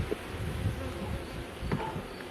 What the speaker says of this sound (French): Enfin, il y a des abeilles de partout.